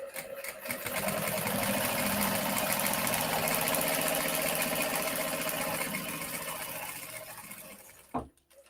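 An industrial sewing machine stitches a 3-inch wide zipper into a bag, running at a steady, rapid whirring clatter for several seconds before slowing. It ends with a brief thump.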